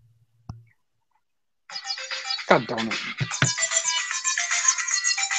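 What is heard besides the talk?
phone ringtone ringing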